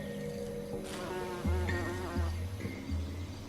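Bumblebees buzz around gentian flowers in a garden, several close, wavering hums rising and falling over a quiet background, with no voices.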